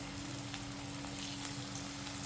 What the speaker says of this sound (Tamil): எண்ணெய் சட்டி வச்சு எண்ணெயில் போட்டு கொஞ்சம் கொஞ்சமாக பொரிக்கணும்